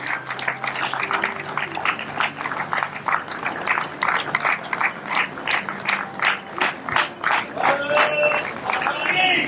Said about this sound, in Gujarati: તાળીઓના ગડગડાટથી આપણે આ ઘટનાના સાક્ષી બનીએ.